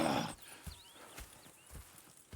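Horses in Red Dead Redemption 2 clip-clop slowly at a walk, with soft hoofbeats every half second or so. A louder burst opens the passage, and faint birdsong plays in the background.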